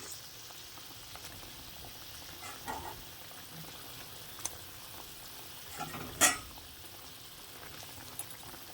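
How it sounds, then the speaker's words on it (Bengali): Rohu fish pieces slide one by one into a pot of boiling gravy, with a low steady bubbling under soft stirring and a sharper splash-like burst near the middle, all fairly quiet and close. "এখন জলের মধ্যে ফুটে এসে গেছে। তো এবার আমি মাছগুলো এক এক করে দিয়ে দেব।"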